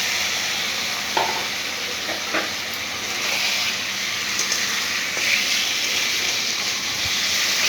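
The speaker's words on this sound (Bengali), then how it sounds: "সামান্য একটু জল দিচ্ছি।" Water poured into a pan of taro stems cooking in spiced masala sets off a loud, steady sizzle and hissing steam, close up, with a few faint clinks.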